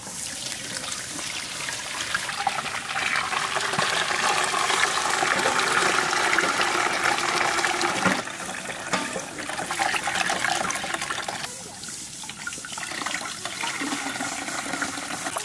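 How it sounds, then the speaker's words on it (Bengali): Ground mustard paste is strained to draw off its juice for a Bengali sorshe ilish dish in a village kitchen, giving a steady, continuous wet trickle and wash of liquid that eases briefly around the middle and again near the end, with no talk. "সর্ষে বাটাটা আমরা ছেঁকে নেব"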